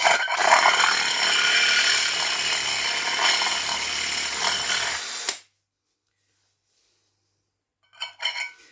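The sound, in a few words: power drill cleaning out a hole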